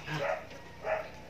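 Two short barks from household dogs at home, about half a second apart, close by and moderately loud over a quiet background.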